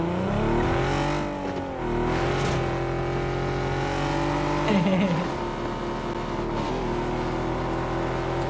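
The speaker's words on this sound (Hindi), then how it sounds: "गाड़ी भी आ रही" A vehicle engine drones steadily in the PUBG Battlegrounds video game, its pitch dipping and climbing as it accelerates and shifts, loud and continuous throughout.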